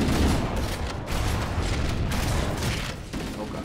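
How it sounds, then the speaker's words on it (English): Rocket blast in the Halo CE Anniversary video game, a dense rumbling explosion with sustained gunfire-like crackle filling the whole stretch, loud and continuous with no quiet gaps. "Oh god, it's a rocket!"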